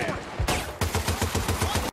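Rapid bursts of automatic machine gun fire in the video game Battlefield Bad Company 2, a fusillade set on a space station, with loud regular shots in a steady rhythm after a couple of heavier blasts.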